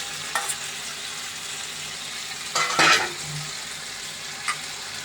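Small jatka fish dropped into a simmering jute leaf curry in a pot: a quick wet splash and clatter midway, with a few light clinks before and after, over a low steady simmer.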